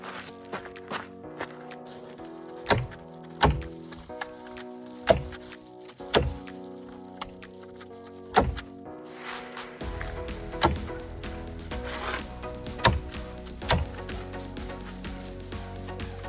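Insulation is fastened in place in an off-grid build with a stapler, producing a handful of sharp, irregular thunks spaced a second or two apart over a low, steady background hum.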